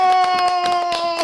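Hands clap in a quick run of several sharp claps at home beside a child, over a sustained tonal sound, with a voice briefly present.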